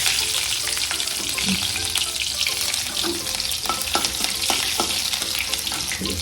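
Chillies sizzle in hot oil in a home kitchen pan, a loud dense crackle with scattered pops and stirring clinks, running without pause and without talking.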